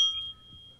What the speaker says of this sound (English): It comes with a bell? It's the cork or the cap.